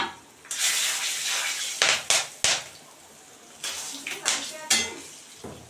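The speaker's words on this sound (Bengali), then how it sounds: "মাছ ভাজা তেলটার ভিতরে আমি জিরে ফোড়ন দিয়ে দিলাম, সাদা জিরে ফোড়ন দিলাম" Whole cumin, cinnamon, cloves and cardamom hit hot oil left from frying fish, giving a sharp sizzle with intermittent clanks of a metal spoon against the pan, close and fairly loud.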